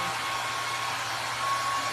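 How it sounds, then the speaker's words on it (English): A paint-spattered hair dryer blows steadily, a constant airy whoosh with a faint whine, close and unbroken. "I think there's so much paint on my dryer that I can't even shut my dryer off anymore."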